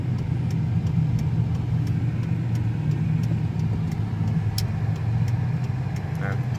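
A car cruising during the Power Tour 2023 event, a steady low engine and road drone from inside the cabin, with light clicking and a voice speaking briefly near the end.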